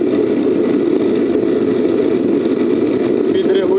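A propane gas forge runs with a small UAZ motor driving its air blower, giving a loud, steady roar that holds without break for the whole stretch.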